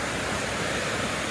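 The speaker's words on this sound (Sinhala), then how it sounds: "මේ ඇලියේ වතුරේ ශබ්දේ සත්තුන්ගේ ශබ්දේ ඒ වගේ තමයි තියෙන්නේ" Stream water at Kitulgala, swollen after rain, rushes steadily in a continuous broadband roar, close and unbroken with no voices.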